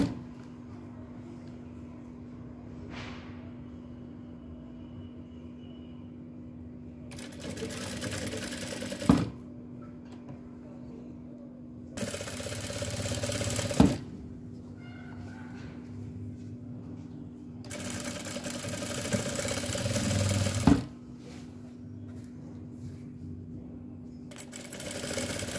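A sewing machine stitches a line of lace onto a dupatta in three bursts of steady whirring, separated by pauses filled with a low constant hum and occasional clicks.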